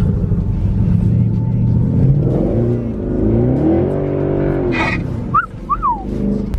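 A Mercedes C63 V8 rumbles and revs with rising and falling engine tone, loud and close, while a person talks over it.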